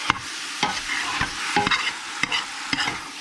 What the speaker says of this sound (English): Every few minutes you come over and you stir your bacon.